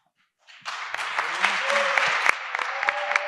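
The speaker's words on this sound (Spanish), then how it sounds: "No sé cuántas veces lo aplaudieron ya." After a brief silence, an academic panel audience breaks into clapping that swells and holds fairly steady, with a voice speaking faintly underneath.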